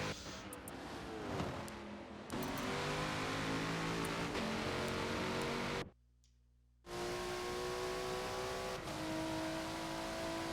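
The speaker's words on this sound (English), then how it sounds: "Arsenal in the Chevrolet, that is a naturally aspirated V8. The Ford is turbo powered" A naturally aspirated Chevrolet V8 and a turbocharged Ford race at Watkins Glen in a multiclass event, their engines droning loud and steady with rising revs, broken by one short gap in the sound.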